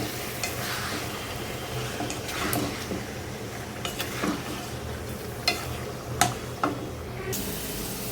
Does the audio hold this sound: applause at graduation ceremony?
no